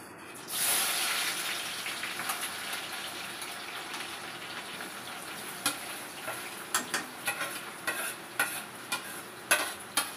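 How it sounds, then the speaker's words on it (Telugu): Onions frying in hot oil for fish curry, a loud continuous sizzle close up with repeated sharp stirring clicks and scrapes growing more frequent toward the end. "ఆయిల్లోని మొత్తం ఆనియన్స్ వేసుకుంటున్నా"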